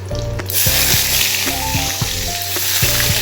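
Chilies hit hot oil in a pan just after fish has been fried, giving a loud, close, continuous sizzle with bursts of spitting crackle and light stirring clicks.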